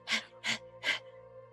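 A voice imitates a dog panting, giving three quick, breathy huffs in an even rhythm. The huffs are close and fairly soft, with no other sound around them.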